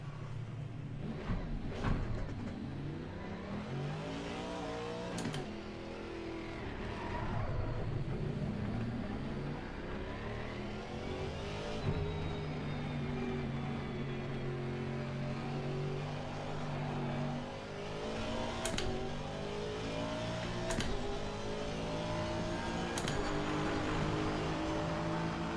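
An Aston Martin GT3 race car engine in Assetto Corsa Competizione drones steadily, rising and falling through gear changes with rising revving sweeps, continuous and moderately loud throughout.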